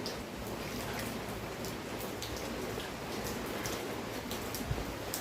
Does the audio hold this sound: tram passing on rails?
no